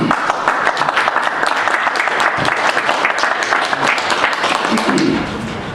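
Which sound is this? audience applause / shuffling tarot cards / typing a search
audience applause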